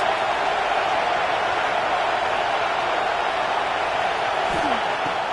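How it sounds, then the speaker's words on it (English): A stadium crowd in the College Football 26 video game cheers for the defense on a big third down, a steady, loud roar that fills the whole few seconds without letting up. "Big third down as the crowd gets behind this defense."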